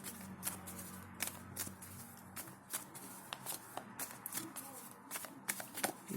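Tarot cards are shuffled in quick, crisp bursts of riffling and flicking, repeated steadily, with faint background noise.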